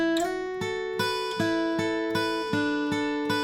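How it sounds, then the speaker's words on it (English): An acoustic guitar plays the chorus-ending riff of a song, a steady run of about a dozen plucked notes with ringing sustain, close and clear without speech. "we're going to play that end riff that's in the chorus."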